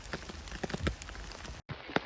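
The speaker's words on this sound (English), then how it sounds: "Yes, it's a rainy day" Steady rain falls on a wet morning in Sweden, a dense close patter with scattered louder drops, briefly cutting out near the end before resuming.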